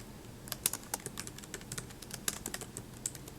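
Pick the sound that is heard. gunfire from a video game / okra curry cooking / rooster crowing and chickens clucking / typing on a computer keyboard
typing on a computer keyboard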